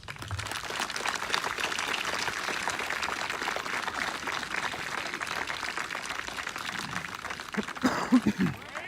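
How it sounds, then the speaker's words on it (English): Steady applause from an audience at an Army Airborne graduation ceremony, a dense even patter of clapping that carries on for several seconds before a few louder, closer claps near the end. "Please give the awardees a round of applause"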